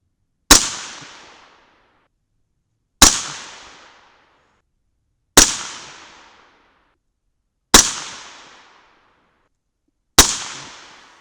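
Five sharp, loud rifle shots from an AR with a 16-inch Stoner barrel and 1-in-8 twist firing 110-grain Hornady V-MAX handloads, spaced about two and a half seconds apart, each ringing out briefly alone.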